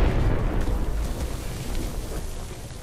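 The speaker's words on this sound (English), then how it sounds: "That grenade was loud, so if anyone didn't know we're here, they probably do now." Grenade explosion in the shooter game S.T.A.L.K.E.R. Anomaly, heard as a heavy, rumbling blast that fills the whole clip and slowly fades as a long roaring tail. Loud and without talk.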